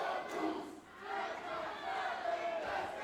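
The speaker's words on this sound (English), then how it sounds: "And the crowd again with the dueling chants." Wrestling crowd at a live CCW Alive Wrestling event trading dueling chants, rhythmic shouted voices from the audience at moderate distance, swelling and dipping.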